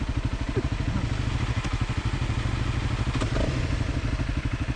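Honda CRF300L Rally motorcycle ridden on a winding mountain road, its single-cylinder engine thumping in a fast steady pulse, loud and close, with wind rush layered over it.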